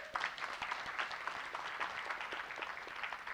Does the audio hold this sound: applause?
yes